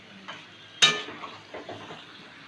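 Meat fries in a pan with a faint, quiet sizzle, interrupted by one sharp clank of a utensil against the metal and a few softer stirring scrapes afterward.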